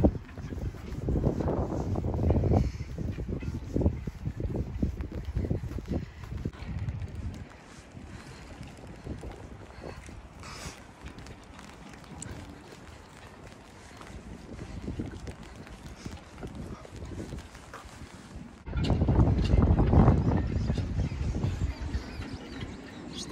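Winter wind buffets the microphone on a deserted, cold Croatian coast by stormy water, coming in heavy low roaring gusts, easing to a steadier rush in the middle, then surging hard again near the end.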